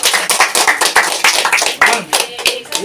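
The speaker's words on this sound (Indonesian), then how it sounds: "Aplaus." A room of people at a Srikandi Pemuda Pancasila election meeting breaks into brisk, dense applause, many hands clapping together for a few seconds before it thins out.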